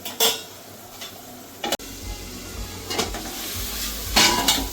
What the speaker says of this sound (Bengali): এবার আমি মশলাটাকে একটু ভালো করে কষিয়ে নেব